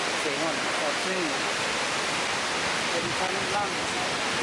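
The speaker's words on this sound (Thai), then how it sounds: "หนึ่งในนั้นก็คือ น้ำตกเคียงอนนี่แหละ" A steady, full roar of rushing water from Kegon Falls in Nikko, Japan, fills the whole clip, constant and broadband, with faint voices or tones under it early on.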